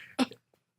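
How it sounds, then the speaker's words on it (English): A single cough or throat clear in the background, short and fairly quiet, followed by faint low sounds and near silence. "you can hear me coughing in the background"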